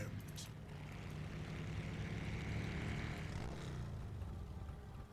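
A helicopter in the video game Heroes of the Storm, a steady droning rotor and engine hum that swells slightly then eases, continuous throughout with faint game sounds over it.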